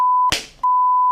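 A censor beep added in editing over speech, a steady pure tone that breaks off for a short burst of voice and then resumes to the end.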